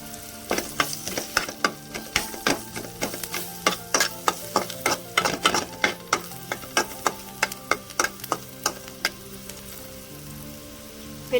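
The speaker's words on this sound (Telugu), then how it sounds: "వెల్లిపాయ బాగా వేగాలండి." Garlic frying in a pan for an okra (bendakaya) curry tempering, with crackly sizzling and sharp spattering pops bursting close by at an irregular rhythm, then thinning out toward the end.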